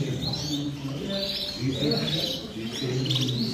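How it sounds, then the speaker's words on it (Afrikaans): Young Gloster canaries at a club show chirp and tweet continuously in a dense, close chorus, with faint background murmur. "Hier is ook van die jong voëls."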